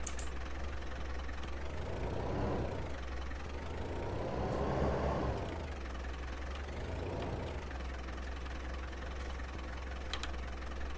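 An old tractor idles in Farming Simulator 19 with a steady low rumble and a faint knock. The engine note swells slightly a few times but holds an even idle throughout, with no talk over it.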